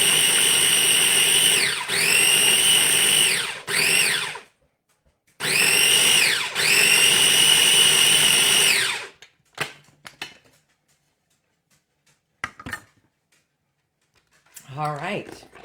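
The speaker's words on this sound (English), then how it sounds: "you can use a blender" Blender whirring through a salmon patty mixture in loud, sustained bursts with pitch sweeps, stopping and restarting, then falling silent apart from a few faint clatters.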